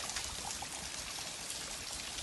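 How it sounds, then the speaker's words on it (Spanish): Natural spring water pours steadily from a pipe on a mountain trail in San José Konkixp, Mixe, Oaxaca, Mexico. It makes a continuous trickling splash up close, with no talk over it. "Aquí sale el agua. Agua natural."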